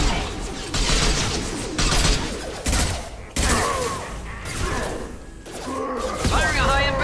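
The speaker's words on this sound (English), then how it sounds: "Firing a high impact shot." High-impact gunfire in Mass Effect 2 on PC, a series of loud blasts and heavy thuds in a dense firefight, with game characters talking over and between the shots.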